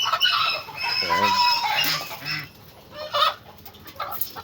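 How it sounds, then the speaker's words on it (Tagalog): Farm geese and other poultry calling in a pen, a cluster of loud nasal honks and clucks near the start, then quieter scattered calls with faint background sounds. "Ayan, doon naman tayo sa ganso. Ito naman yung ganso natin kakabsat."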